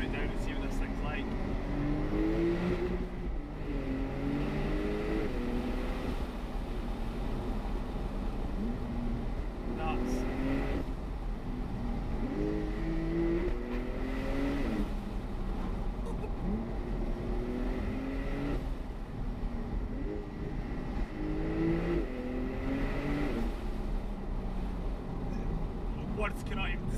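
A 2020 Porsche 992 Turbo S Cabriolet with an 8-speed PDK accelerating hard, its engine note rising repeatedly through quick gear changes, moderately loud and steady beneath someone talking throughout.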